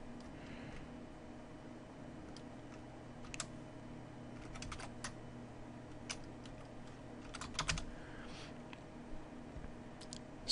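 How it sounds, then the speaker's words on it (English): Scattered keystrokes on a computer keyboard, typing quiet, sparse clicks and short bursts in a hushed room with a faint steady hum beneath. "we type in the alias name"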